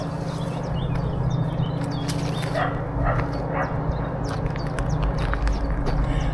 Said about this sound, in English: I can hear some dogs barking in the background